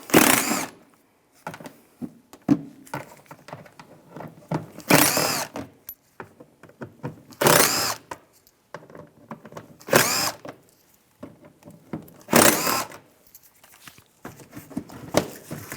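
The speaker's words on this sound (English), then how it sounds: "Take these screws out, use a T20 socket." A power driver with a T20 socket backs out screws on a 2008-2017 Buick Enclave during A/C condenser replacement, giving repeated loud whirring bursts with quieter clicks and handling noises between them.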